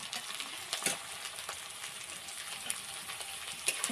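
Ginger, garlic paste and spices sizzle in a pan with a steady, fairly quiet frying hiss and a few soft stirring clicks, with no voices.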